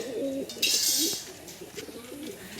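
Close pigeon cooing, a series of low throaty warbling coos repeating, with a brief rustle of wings partway through.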